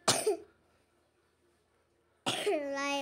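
A single short cough bursts out at the start, followed by a pause and then a voiced sound that could be speech, all fairly close and moderately loud.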